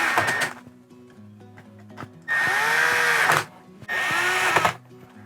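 A power screwdriver snugs screws into an RV air conditioner cover against the ceiling, two separate bursts of close, whirring motor noise about a second long each, with quiet handling sounds between.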